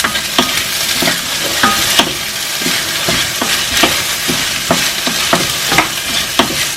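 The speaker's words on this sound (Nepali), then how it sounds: "मैले यो चिप्ले भेन्टा भुटेको 2 मिनेट जस्तो भइसकेको छ" Okra sizzles steadily in a hot pan with turmeric and salt, broken by frequent scraping stirs as a spoon turns the pieces, loud and close with no voices.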